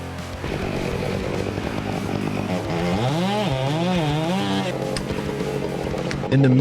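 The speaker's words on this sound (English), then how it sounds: "the chainsaw ignited like a mechanical beast awakening" A chainsaw revs loudly while cutting timber, its engine pitch rising and falling in sweeping waves as the bar bites into wood, close and continuous with a sharp roar near the end.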